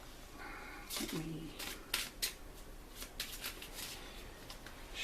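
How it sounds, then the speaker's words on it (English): Quick papery riffling and snapping of a card deck for the Hostage Negotiator board game being shuffled, in short bursts close by, with a brief voice near the start. "Shuffle the terror deck."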